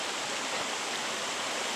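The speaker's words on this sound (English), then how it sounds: "Beautiful falls." Buderim Falls waterfall pouring in a steady, dense rush of white water, continuous and fairly close with no pauses, alone without any talking, on a rainy day.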